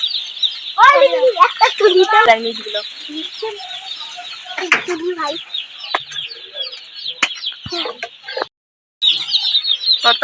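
Several hens and chicks cluck and squawk close by, with irregular bursts of calls over steady background noise, and a person speaks briefly.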